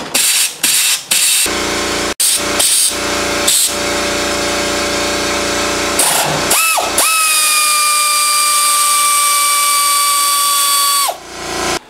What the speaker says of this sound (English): I can say that the air ratchet works. I mean, it does work. It's loud as heck, but it does work.